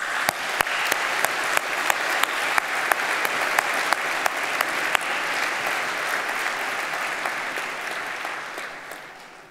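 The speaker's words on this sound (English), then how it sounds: "Graduands, please join me in a round of applause to thank all those who have helped you along the way." Graduation ceremony audience in a hall applauding steadily, a dense wash of clapping with a few sharper nearby claps standing out, holding for several seconds before beginning to thin out at the end.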